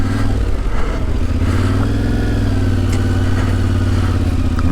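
KTM motorcycle ridden across damp sand and clay, its engine droning loud and steady close by with slight pitch shifts as the throttle varies and a clattery mechanical edge throughout.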